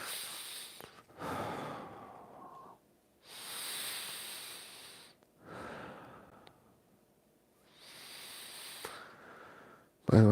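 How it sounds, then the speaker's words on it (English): Deep breaths during a home breathing exercise in a morning mobility routine: four slow cycles of long, close, airy inhales and exhales separated by short pauses. "We're going to do some breathing."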